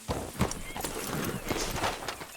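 A horse in the Red Dead Redemption 2 video game collapses, with close, busy hoof clatter and snorting, a whinny-like cry and a bit of muffled voice over a continuous game soundscape.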